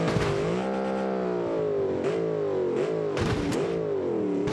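An Audi R8 engine in a car-jumping video game revving hard and accelerating, a steady harmonic growl with several quick gear-shift dips and a few clattering bumps, loud and continuous.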